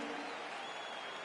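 Crowd cheering in a UFC fighting video game on PS4 as a lightweight bout gets underway: a steady, dense roar of applause and crowd noise filling the whole moment without a break.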